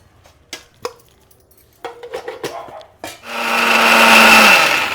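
A mixer grinder whirs loudly after a few knocks and clatters as garlic, peppercorns and red chillies go into the jar, the motor running steadily and close for the final seconds.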